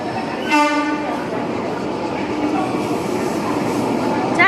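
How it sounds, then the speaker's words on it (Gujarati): A double-decker, two-storey passenger train arrives at a station, with a short horn blast near the start followed by a loud, steady rumble and rattle of carriages close by. "હાલો ટ્રેન આવી ગઈ છો."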